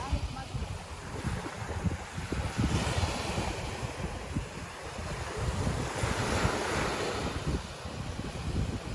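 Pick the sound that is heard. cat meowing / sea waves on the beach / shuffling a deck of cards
sea waves on the beach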